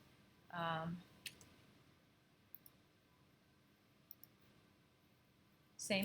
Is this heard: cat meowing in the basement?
no